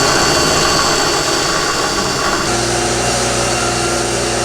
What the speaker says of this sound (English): Luckily, we've got the step bit here that is really helping to chew away at the metal.